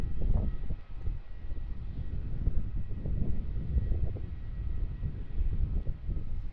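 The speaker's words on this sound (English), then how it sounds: "Come in and taxi just in front of us here onto the Jetstar gates." A Jetstar Airbus A320-200 taxiing toward the terminal gates at Melbourne Airport on a cold morning, a low rumbling engine drone heard from a distance with gusty wind noise over it.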